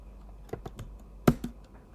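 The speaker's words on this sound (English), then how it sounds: "here I will just type my email" Keys on a computer keyboard are struck while an email address is typed: a few separate, crisp clicks, close and fairly quiet, with one sharper keystroke standing out over a faint background hum.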